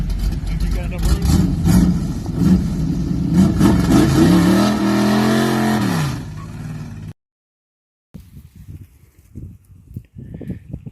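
A 1968 Chevrolet C10 truck with a 383 stroker engine revs loudly up close, its pitch climbing and falling before cutting out, followed after a pause by faint talking.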